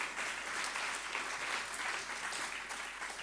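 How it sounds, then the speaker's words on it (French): A conference audience at a French automotive trade club event applauds guests arriving on stage: dense, even clapping from many hands that holds steady and moderately distant for the whole stretch, with no talking. "Et qu'on peut applaudir pour leur venue et leur témoignage."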